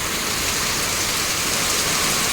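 Torrential typhoon rain and strong wind in Taal, Batangas make a loud, continuous, hissing downpour that beats on nearby surfaces without any break.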